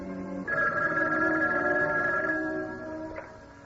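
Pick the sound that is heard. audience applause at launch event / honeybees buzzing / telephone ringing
telephone ringing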